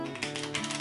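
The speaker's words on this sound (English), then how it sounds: "if I try to give them a quick shuffle so that they are all mixed up" A deck of playing cards is given a quick shuffle during a magic routine, heard as a brief, close rapid riffle of clicking and fluttering card edges with no talk.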